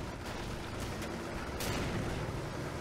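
Explosions and artillery fire rumble continuously in a Men of War: Assault Squad 2 tank battle, a dense, steady low roar with a few sharper bursts rising from it.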